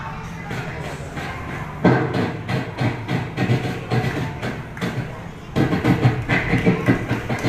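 A person vocally mimics two trains meeting and passing, building from a quiet rumble into dense, rapid chugging bursts that swell louder toward the end.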